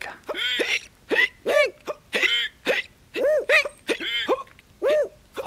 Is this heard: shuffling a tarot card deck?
no